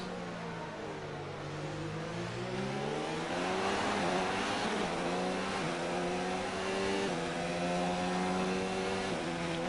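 A Formula 1 car engine in the F1 2019 game screams through rising and shifting revs during a drag race with rivals, a loud continuous whine with gear-change steps and other cars close by.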